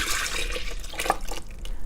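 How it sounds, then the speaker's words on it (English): A milk mixture being poured into a bowl while making cinnamon rolls, giving a brief, close liquid splash and trickle that lasts under two seconds, with no talking. "this is when we pour our milk mixture"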